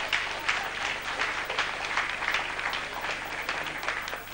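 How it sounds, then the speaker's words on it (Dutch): Audience applause at a local broadcast event in Dirksland, 1995, a steady sustained wash of many hands clapping at even loudness throughout. "Geef die man een hartelijk applaus."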